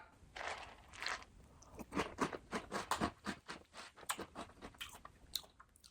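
Ghostbusters Afterlife cereal in milk being crunched and chewed close to the mouth, a steady run of crisp bites and munches with no talking.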